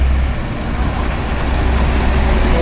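Loud, steady low rumble of a heavy PT Pos logistics truck on an Indonesian road entering the Sinaksang toll, close and continuous with no talk.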